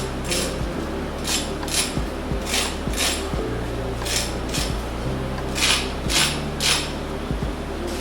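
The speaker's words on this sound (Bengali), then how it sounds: "শব্দটা শুনে নিশ্চয়ই বুঝতে পেরেছেন যে এটা কতটা ক্রিস্পি হয়েছে।" Crispy fried lentil (masoor dal) kebabs are broken apart, giving about ten sharp crackling crunches at an irregular rhythm over a low steady hum, with no speech.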